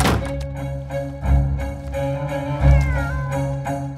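A cartoon cat meows loudly several times in close succession, with a couple of dull thumps and a low background hum.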